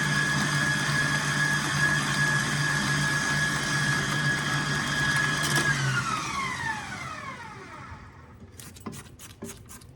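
Butter, sugar and almond extract being whipped into cookie dough under a loud, steady motor whir that winds down in pitch partway through, followed by a few sharp clicks near the end.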